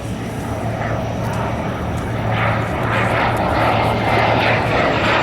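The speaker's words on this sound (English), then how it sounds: "In a high-speed pass, the Jet, Spain's first jet airplane." Spain's first jet airplane, an aircraft operational since 1962, roars through a high-speed pass at a military air show, a loud continuous rushing engine sound that swells as it comes by.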